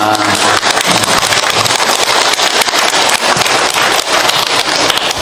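A lecture audience applauds, a dense, loud, continuous wash of clapping from many hands that holds steady throughout with no talking over it.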